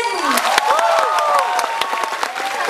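An audience claps to welcome a male singer on a stage show, dense clapping mixed with a few cheers, while sustained music tones and sweeping notes ring underneath throughout.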